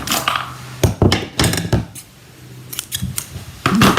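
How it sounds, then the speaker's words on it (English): Scissors snip through ribbon while making a bright and beautiful birthday card, giving several crisp, close cuts in quick bursts, with short pauses between them and no talk. "cut this off a similar length"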